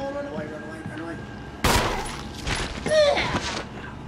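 Gunfire in Resident Evil Remastered HD as a player shoots a zombie: a sharp blast at 1.6 s, then a couple more shots near 2.5 s and 3 s over game ambience, with someone talking excitedly around them.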